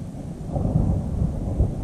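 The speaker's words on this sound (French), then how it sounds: "on est pris dans l'orage là" A low, continuous rumble of thunder rolls through a thunderstorm during a fishing weekend in Aveyron, steady and fairly loud with slight swells across the whole stretch and no voices.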